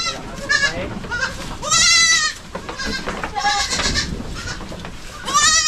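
Several goats bleat in repeated loud, wavering calls on a Philippine goat farm, with overlapping cries from the herd and a faint voice or two underneath.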